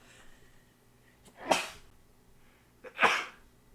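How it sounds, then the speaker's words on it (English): Two sharp sneezes about a second and a half apart, close and fairly loud, over a quiet room background. "That sneeze came up out of nowhere"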